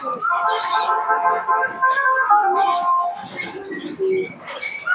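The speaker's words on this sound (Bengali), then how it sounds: "এই দেখুন মাদিন কবুতরটা দেখুন।" A female pigeon of a local Indian breed coos nearby in soft, throaty rolling phrases, with faint background rustle and some other bird sounds mixed in.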